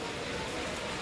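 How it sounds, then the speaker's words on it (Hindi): Steady rain falls throughout, a dense, even hiss of drops on surfaces with no break in intensity. "तो भाई देखो अभी बारिश बंद हुई तो फिर स्टार्ट हो गई बारिश"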